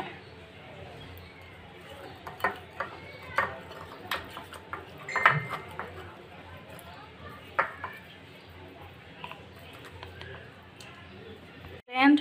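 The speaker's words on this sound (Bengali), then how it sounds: "তো এখন মাছগুলি ভালোভাবে মাখিয়ে নেব।" Fish pieces being rubbed with chili and turmeric powder in a bowl for a village-style rui fish curry, with scattered soft clinks and squishy handling noises, a few sharper knocks, steady background noise, no talking.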